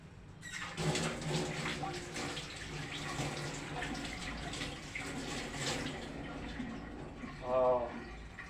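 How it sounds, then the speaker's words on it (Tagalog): An egg is rinsed under a running tap, with a steady stream of water splashing close by. A voice speaks briefly over the flow near the end. "Hugasan ko muna itong itlog."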